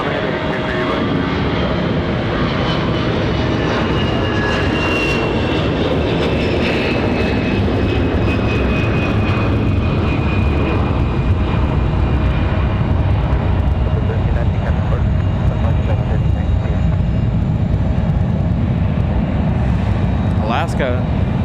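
A United 737 MAX 9 airliner rolls for takeoff on runway 23 right at Raleigh-Durham in windy conditions, its engine roar loud, steady and continuous throughout, with a voice talking over it.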